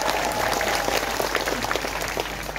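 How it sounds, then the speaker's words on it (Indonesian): Audience applause at a large open house event held with Indonesia's defense minister, a dense, steady wash of clapping that stays loud across the short stretch. "Tepuk tangan."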